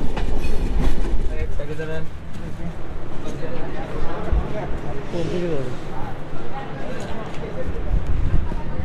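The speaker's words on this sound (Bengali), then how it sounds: "আমাদের ট্রেন কিন্তু অলরেডি ভাঙ্গা জংশনে প্রবেশ করেছে" A train entering Bhanga Junction station in Bangladesh, its low rumble and rattling clatter filling the scene, with people talking over the steady rolling noise.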